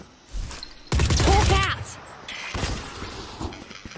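Gunfire in the shooter game Valorant, a dense burst of rapid shots up close followed by scattered lighter cracks, with players' voices talking over parts of it.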